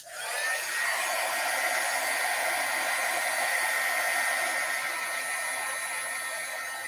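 A heat tool runs steadily, drying blended stamping ink on paper with a continuous close whooshing blower noise that holds at a constant level throughout, without talk.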